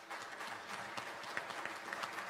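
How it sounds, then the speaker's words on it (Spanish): A room of conference attendees applauds panelists, a steady crowd clapping with scattered sharper individual claps, continuous and moderately loud with no talking over it. "Y también quisiera pedirles un fuerte aplauso a nuestros"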